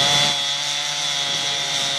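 A chainsaw cuts through wood at a wood-cutting competition, its loud, steady engine whine holding constant and close throughout with no pauses.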